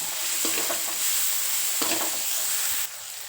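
Onion with ginger-garlic paste sautéing in a pan, a loud continuous close sizzle and hiss with a couple of stirring scrapes, dropping in intensity just before the end.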